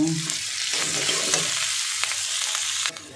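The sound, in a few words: green chilli and curry leaves frying in oil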